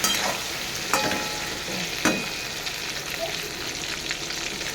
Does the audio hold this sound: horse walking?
no